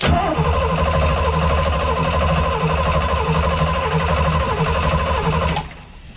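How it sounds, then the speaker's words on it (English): A Luhrs 28 boat engine cranks over repeatedly with its distributor disconnected so it cannot fire, a loud rhythmic starter churn that runs without a break and then cuts off near the end. "I'm going to crank it 10 times. I already disconnected the distributor, so it won't start."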